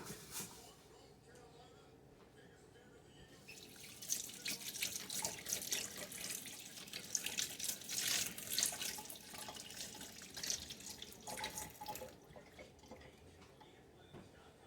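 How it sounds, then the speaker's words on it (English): Water runs from a kitchen tap as hands are rinsed off during chicken dinner cooking, a steady broadband splash that strengthens after a few seconds and stays continuous, close and moderately loud. "now I'm gonna rinse my hands off"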